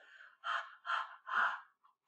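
A voice imitates a tired dog panting: three quick, breathy huffs in a row, close and fairly quiet, followed by a couple of faint trailing breaths.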